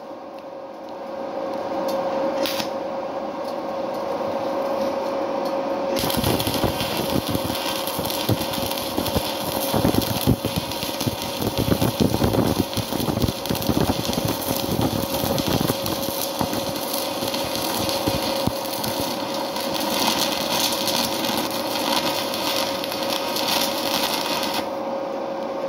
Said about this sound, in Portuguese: aqui eu tô fixando primeiro o cabo, a primeira solda